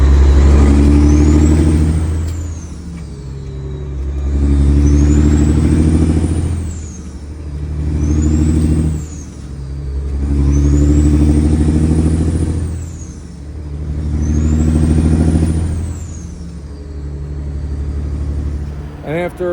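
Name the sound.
work truck engine fluttering from weak injector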